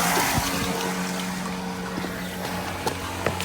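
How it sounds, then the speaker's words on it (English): Water running and trickling down a damaged drain channel along a joint, a steady close wash with faint splashes and no talk. "The water's actually running down in there."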